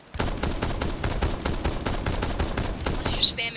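Gunfire from a Rainbow Six Siege weapon: a rapid string of sharp, evenly spaced shots, fairly loud and close, firing steadily for the whole stretch with a brief bright metallic ping near the end.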